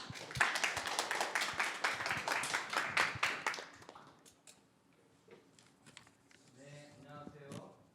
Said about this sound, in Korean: 여러분 따뜻한 박수 부탁드립니다.